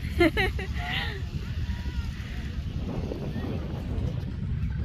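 Strong wind buffeting a microphone outdoors at Al Bayt Stadium in Al Khor, Qatar, a steady low roar that runs through the whole stretch, with a brief voice near the start.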